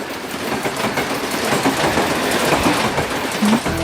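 A train rumbles past close by, a dense steady roar with rhythmic clickety-clack of wheels on the rails throughout.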